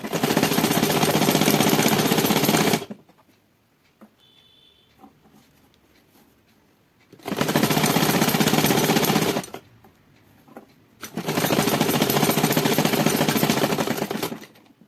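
A sewing machine stitches the underside of a fabric sleeve in three long, loud, steady runs of rapid motor chatter, separated by quiet pauses, with no speech.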